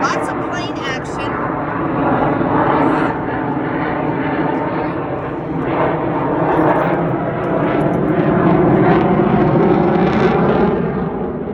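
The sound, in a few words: airplane flying overhead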